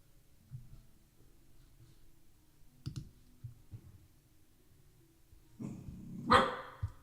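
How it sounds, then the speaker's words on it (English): A dog gives a few scattered barks, faint and distant at first, then a louder burst near the end, over a quiet room with light clicking sounds. "doggy"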